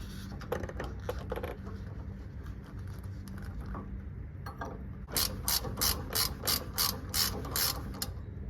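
Ratchet clicking as sway bar bushing bolts are worked loose on a Toyota Land Cruiser 100 Series rear suspension, with scattered clicks at first, then a run of about eight strong, evenly spaced ratchet strokes close to the microphone.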